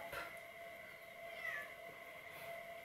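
A faint, high meowing sound with a steady tone, from a cat wanting into the bedroom, drifting in the background of a quiet room; no talking.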